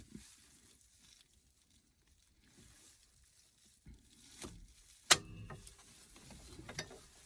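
A hose clip on a Porsche Cayman/Boxster 997 coolant pipe is released, giving one sharp metallic snap amid quiet handling and faint mechanical clicks, with nobody speaking.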